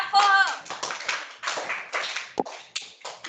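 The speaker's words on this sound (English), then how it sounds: "Clap for her." Classroom of students clapping for a classmate during a general-knowledge quiz, a burst of scattered hand claps with voices talking over it.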